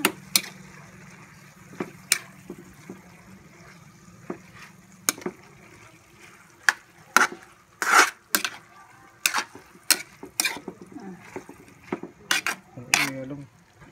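Pork and vegetable stew with petchay in coconut milk being stirred in a pot, a series of sharp metallic utensil knocks and scrapes against the pot, irregular and close, with quiet talk at times in between.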